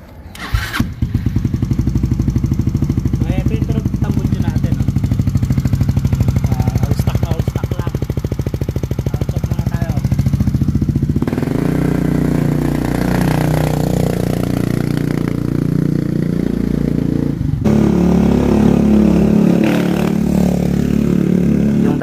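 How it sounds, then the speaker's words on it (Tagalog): A rebuilt Yamaha MX Carb 125 project motorcycle runs loudly and close, its engine chugging steadily before revving harder and then settling to a rougher, shifting note near the end. "eto na nga pala yung binuo natin na MX Carb 125, ready na para i-test drive"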